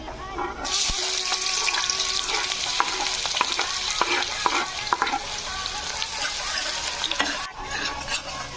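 Chopped onion dropped into hot oil for egg masala, a bright, loud sizzle bursting in and holding steady with spoon stirring clicks, close and without talk.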